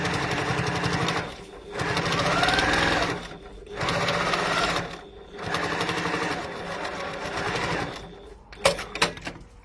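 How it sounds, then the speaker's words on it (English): Sewing machine stitching fabric in several steady bursts, pausing briefly between runs, loud and close, followed by a few sharp clicks at the end. "we're just going to sew straight back down again"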